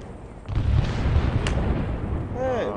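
Mortar shells explode in a military video game, a heavy boom rolling into sustained rumbling debris, with a sharp crack midway and whistling tones near the end.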